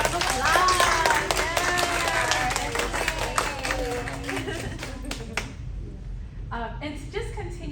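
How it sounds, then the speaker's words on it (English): Audience applause at a community celebration event, brisk clapping with some cheering voices and chatter mixed in, loud at first and then thinning out to scattered claps toward the end. "Let's give a big round of applause."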